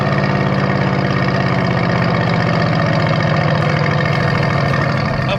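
Mercedes-AMG GT C convertible with its engine running, a loud, close, steady idle-like rumble that holds evenly throughout with no talk.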